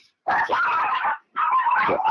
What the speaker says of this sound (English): I got dogs here.